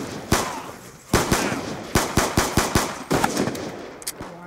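Rapid automatic gunfire in Call of Duty Black Ops 2: a single shot, then a steady burst of about a dozen loud cracking rounds, a short pause and a few more shots, heard close with no speech.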